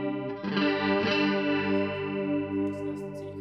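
An electric guitar runs through a Valeton Coral Mod T chorus pedal: a strummed chord rings out and sustains with a subtle, smooth shimmering modulation, and a few soft notes follow near the end.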